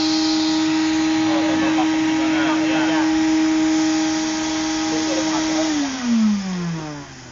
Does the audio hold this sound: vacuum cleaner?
yes